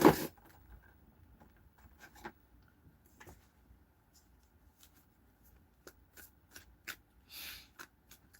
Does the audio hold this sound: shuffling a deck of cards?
yes